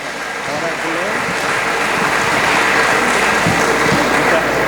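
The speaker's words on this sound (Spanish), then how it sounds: "Lo invitamos a que suba y lo recibimos con un fuerte aplauso." An audience at a Catholic charismatic renewal gathering breaks into strong, continuous applause to welcome a speaker to the stage, a steady broad roar of clapping.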